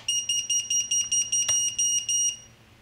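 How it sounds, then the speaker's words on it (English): A QAV250 quadcopter's flight controller buzzer gives a rapid series of about ten evenly spaced high-pitched beeps, close and loud, with no talking. "Okay, and then here's buzzer."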